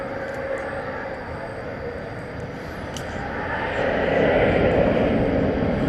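An American Airlines Boeing 737 MAX 8 at DFW Airport at night, its jet engines a broad, steady roar that swells louder toward the end as it approaches, with faint voices in the background.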